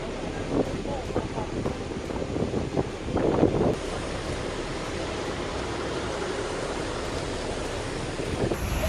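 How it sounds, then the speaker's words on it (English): Waves driven by Typhoon Meranti pound the coast at Taitung, a continuous roaring wash of surf with heavy wind buffeting the microphone and a few louder surges along the way. "Typhoon Meranti hits Taitung, massive waves rising violently, turning the coast into a picture of nature's fury."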